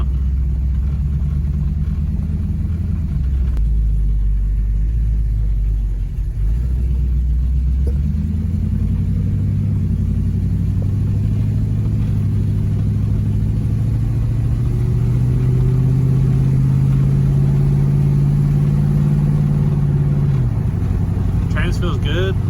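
A 1972 Camaro with a 383 stroker engine drives along, its deep engine rumble loud and steady and rising in pitch as it accelerates, close from inside the car.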